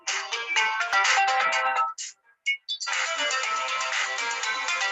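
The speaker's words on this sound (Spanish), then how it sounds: "No deja de sonar el teléfono." A telephone ringtone plays loud and close in a steady electronic warble, stops briefly with a couple of faint blips, then starts ringing again.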